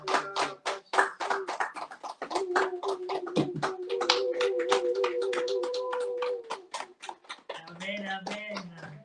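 A church congregation claps in a steady, fast rhythm during worship, with voices singing or chanting along throughout and a louder vocal passage near the end.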